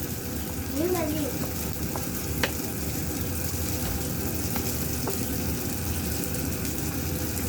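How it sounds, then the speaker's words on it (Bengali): Eggs and onion fry in oil in a pan, giving a steady, even sizzle that runs throughout with a few faint clicks over the top. A brief voice can be heard early on. "ডিম ভাজি করুন করাইতে তেল দিয়ে দিই"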